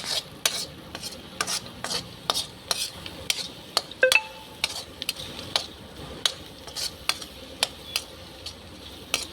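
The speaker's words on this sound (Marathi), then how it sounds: "असं मस्त तेल सुटलं आहे. फ्राय होत आहेत" Poha cooking in oil with onion, garlic, coriander, green chillies, cumin and peanuts, heard as a steady series of scraping spoon strokes against the pan in a regular rhythm over a faint sizzle, with no talking.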